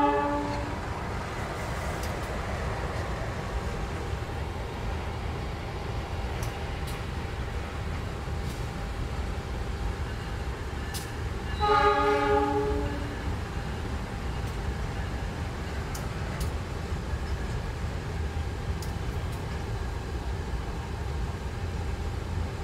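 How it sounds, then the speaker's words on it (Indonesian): A ballast freight train rumbles steadily into a station on track 4, with a brief horn tone sounding midway over the continuous rolling noise. "Ada kereta yang masuk ya di jalur 4. Itu adalah kereta angkutan Batu Balas."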